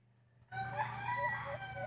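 A burst of gobbling from a turkey, a rapid warbling call over low farmyard background noise, fairly close.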